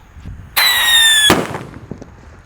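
A Pearl Thunder closing firework fires one loud, sharp burst with a shrill whistling whine for under a second, then a quick crackle and faint pops as it fades, close by and with no talk.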